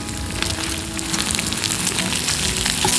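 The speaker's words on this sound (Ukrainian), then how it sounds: "Додаємо грудинку та мисливські ковбаски." Meat, brisket and hunting sausages fry together for bigos, giving a loud, dense, crackling sizzle that continues steadily and close throughout.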